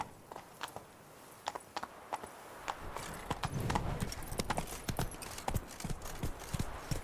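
Roach, a horse in the video game Witcher 3, trotting with steady clip-clopping hooves that start sparse and quicken into a continuous gait, over a soft ambient background with no talking.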